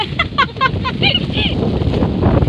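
Gusty wind on Taiping bridge buffets the microphone with a low, rough rumble, under a few high bird-like chirps at the start.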